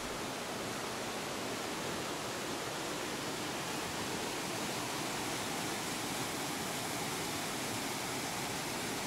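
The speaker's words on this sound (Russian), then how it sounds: "Возле мельницы сильный перекат из гряды камней." Strong river rapids rush over a ridge of stones beside an old mill, a steady, dense roar of turbulent water that stays constant throughout without pauses.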